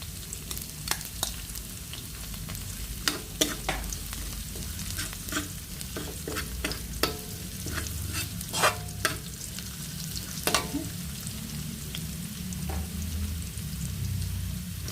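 Onions frying and being stirred in a pan for beef bihon, a steady close sizzle broken by repeated sharp scrapes and clinks of the spatula against the pan, with no talking.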